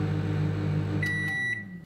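A microwave oven heating a ready-meal chicken jalfrezi hums steadily, then its motor winds down and a few high electronic beeps sound as it finishes.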